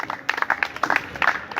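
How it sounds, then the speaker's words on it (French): A church congregation claps and cheers in praise of Jesus Christ, a short burst of lively applause with scattered voices mixed in. "Acclamons d'abord très fort au nom de Jésus-Christ."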